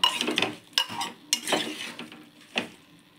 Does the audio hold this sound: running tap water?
no